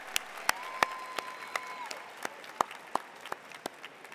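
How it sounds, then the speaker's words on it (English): Sparse, scattered handclaps from a graduation crowd, individual claps standing out at irregular intervals over a faint hall background, with a brief tone sounding beneath. "Four years of high school had led to this point, so you owe yourself a round of applause."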